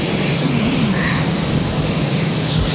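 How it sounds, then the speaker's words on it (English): Air Force One, the presidential jet, arriving on the runway at JFK Airport in New York, a loud, steady engine roar that holds at near-constant level throughout, with a low whine running underneath. "Air Force One have just arrived and is coming in on the runway."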